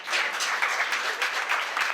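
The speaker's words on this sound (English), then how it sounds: "There seems to be a lot of clapping going on" An audience claps steadily and densely throughout, a sustained wash of many hands at even loudness with no talk.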